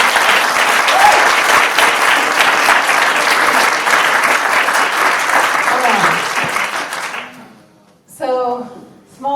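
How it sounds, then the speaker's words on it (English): Loud, sustained applause from a conference audience honoring a concluding keynote speaker, dense clapping for about seven seconds before fading, then a voice begins speaking. "so can we just all just clap for her?"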